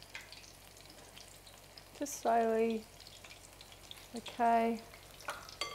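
Pakora batter made with gluten-free vegan ingredients drops into hot oil, a steady soft sizzle rising into two louder bursts of frying as portions go in, with a brief spoken word near the start.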